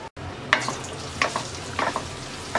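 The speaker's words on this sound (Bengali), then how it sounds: "তেলটা গরম হয়ে গেছে, দিয়ে দিচ্ছি 2 টেবিল চামচ ছেঁচে নেওয়া রসুন।" Two tablespoons of crushed garlic fry in hot mustard oil in a karai, a steady close sizzle punctuated by a few sharper spatters and stirring scrapes.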